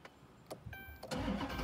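A high-mileage Dodge Charger Pursuit engine cranking with a few starter bursts before catching and settling into a loud, rumbling idle, heard close up.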